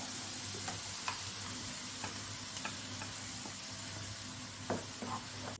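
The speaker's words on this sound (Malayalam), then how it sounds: "നമുക്ക് നന്നായിട്ടൊന്ന് വഴറ്റിയെടുക്കണം" Ground onion paste sautéing in a pan for a spinach chicken curry, a steady close sizzle with scattered clicks and scrapes of stirring throughout, no talk.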